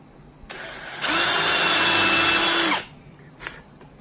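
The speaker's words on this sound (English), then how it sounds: "I line up my sight again on the line, and I drill another hole." A power drill bores a hole in wood while a chain drill guide holds it in place. It runs in one loud burst of about two seconds, with a short spin-up and a quick wind-down, and nothing else is heard around it.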